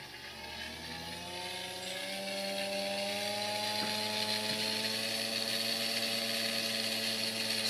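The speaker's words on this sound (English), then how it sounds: "So that's the motor running." Electric motor spinning on a battery-pack switching demo rig, a steady close whine with a faint slow climb in pitch, rising slightly in loudness after the first couple of seconds and holding even throughout.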